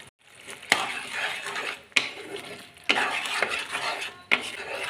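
A mushroom gravy with yogurt is stirred in a pan while it cooks down, and a utensil scrapes and knocks against the metal in four or five sharp strokes over a soft sizzle, close and with no talking.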